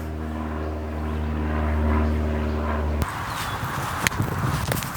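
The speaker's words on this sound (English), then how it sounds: "now there's a plane going" A propeller airplane drones steadily overhead for a few seconds, then cuts off abruptly into quieter outdoor ambience with a few clicks.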